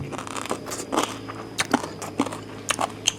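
Crunchy food bitten during a meal of Mon-style curry with mataad fruit and pork ribs: several sharp, crisp crunches spaced irregularly, close and fairly clear over a faint background hum.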